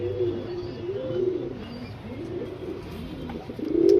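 A male Surmi pigeon with full gold shading coos in low, rolling repeated phrases, close and steady, with no voices over it.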